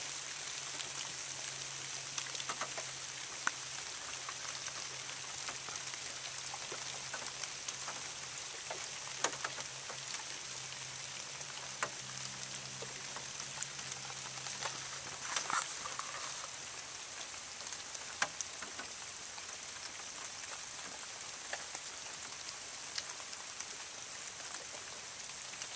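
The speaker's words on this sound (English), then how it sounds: "Just enjoying a rainy day." Steady rain falls across a park, a constant soft hiss and patter of drops with no voices, unbroken from start to finish.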